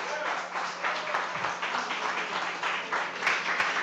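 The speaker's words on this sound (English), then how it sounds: "Give him a big round of applause." An audience at a chef showdown event applauds as a chef is brought up on stage, a dense, even burst of clapping that holds steady throughout the short stretch without clear speech.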